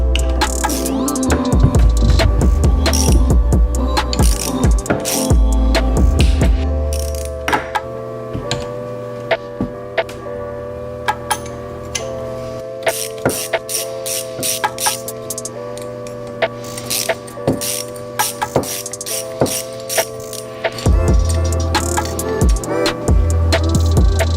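Ratchet wrench working bolts loose from a Garrett turbocharger housing, a run of close, sharp metallic clicks and ticks with a steady mechanical hum underneath.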